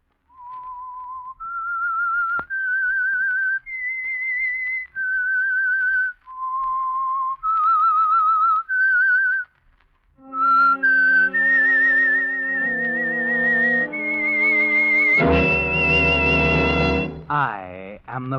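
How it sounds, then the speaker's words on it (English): A solo whistler performs the eerie theme signal of The Whistler radio mystery program, a slow series of sustained, wavering melodic notes; an orchestra joins under the later phrases, building to a loud swell. "That whistle is your signal for the Signal Oil Program"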